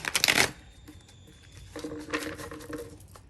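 Crisp riffling of tarot cards being shuffled up close, a quick burst followed by softer patter and another shuffle, quiet and without speech.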